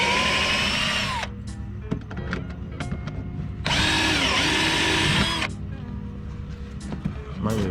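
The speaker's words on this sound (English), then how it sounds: "Drilling out." A power drill drills out a stuck screw on a C5 Corvette rear bumper while a molded spoiler bumper is being fitted. It runs loud and close in two long bursts with a pause between them, and voices talk during the gap.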